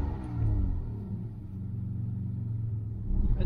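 Citroën XM V6 engine accelerating on the road with a slight hesitation, a steady mid-low rumble that dips briefly before swelling again, heard from inside the car.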